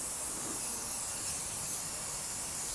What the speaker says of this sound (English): Here we go, we're spraying the armour.